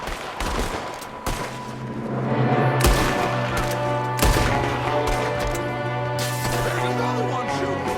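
Enemies fire on the player in a Red Dead Redemption 2 gunfight, with rapid loud gunshots in dense bursts and echoing booms, a heavy, continuous firefight.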